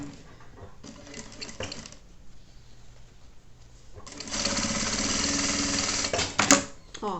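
A sewing machine runs a short safety seam along the bottom of a shoulder bag, first with a softer, lighter whirr, then a steady, louder run of stitching close by, ending with a small click.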